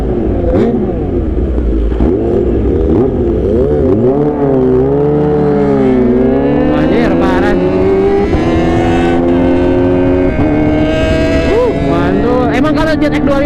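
A Kawasaki H2 motorcycle engine revving hard, rising and falling in pitch with sweeping throttle blips, loud and close throughout, with a rider's voice faintly mixed in.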